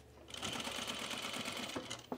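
A sewing machine top-stitches a button-down shirt, a fast steady whirring hum of needle strokes that starts abruptly after a brief pause and runs close and loud, with a couple of sharper clunks near the end.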